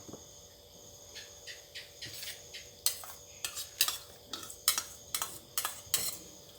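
A crispy rice salad with fermented pork sausage, dressing and roasted peanuts is tossed with utensils, making close, irregular clinks and scrapes against the bowl that grow busier over time, with no talking.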